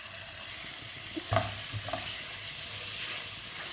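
Chicken liver frying in hot oil makes a steady, moderate hiss up close, with a couple of soft scraping knocks from a utensil partway through.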